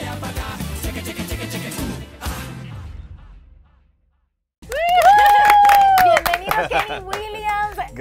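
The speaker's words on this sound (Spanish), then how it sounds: "¡Un aplauso!" A studio audience on a TV show claps for the guest musical artist, with a burst of applause lasting about two seconds. A brief silence follows, then music starts up loudly.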